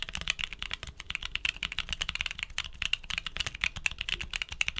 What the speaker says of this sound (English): material blend delivers a satisfying thock with each keystroke